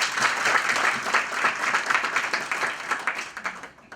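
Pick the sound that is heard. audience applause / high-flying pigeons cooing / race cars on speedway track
audience applause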